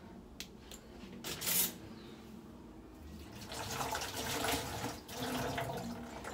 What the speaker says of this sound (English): And then I'm gonna have to wash my lemon.